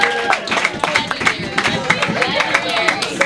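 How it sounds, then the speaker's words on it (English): A rugby club crowd at an alumni weekend gathering applauds the new alumni with a steady patter of clapping, with voices and chatter mixed in throughout. "round of applause for the new alumni"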